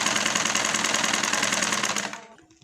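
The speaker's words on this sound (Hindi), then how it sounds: "इस तरह से इस पर सिलाई लगा देंगे।" A sewing machine stitches the waistband of palazzo pants in a fast, steady mechanical chatter, loud and close, then slows and winds down to a stop near the end.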